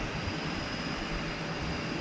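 An airplane taking off from runway 34 at Zurich airport, a continuous broad jet engine roar with a faint steady whine, heard from nearby in clear weather.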